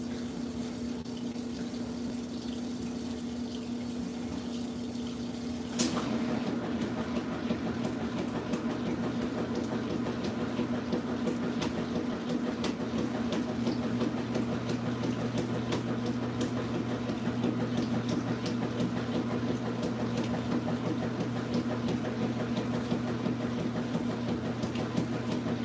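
An Amana direct drive washing machine fills with water and runs, giving a steady hum and rushing water close by. It shifts to a louder, busier churning after a few seconds and holds that level alone with no talk.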